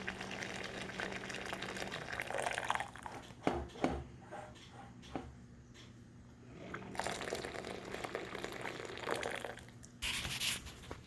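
Hot water pours from a dispenser in bursts, gurgling and splashing into a container, with short pauses and clicks between pours.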